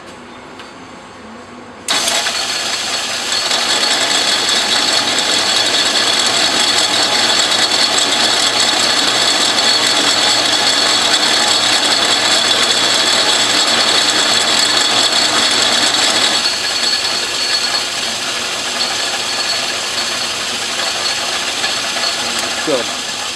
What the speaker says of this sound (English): got the lathe and back gears, got my 3/8 reamer chucked up